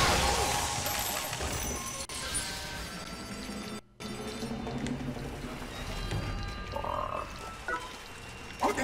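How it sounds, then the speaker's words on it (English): Frogs croak loudly and continuously in the game Let It Die, the rapid croaking briefly broken by a short gap and mixed with scattered clinks and game effects. "Come here, frog."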